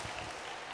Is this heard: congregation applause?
yes